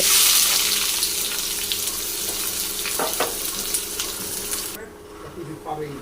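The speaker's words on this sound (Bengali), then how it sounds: "ফোড়নটা দিয়ে দিলাম কালো জিরে একটা শুকনো লঙ্কা এবার দিয়ে দিলাম কুচানো পেঁয়াজ" Chopped onion hits hot oil with black cumin and a dried chilli while taro greens with coconut are cooked, starting with a loud hissing sizzle that settles into steady frying with stirring taps before abruptly dropping off.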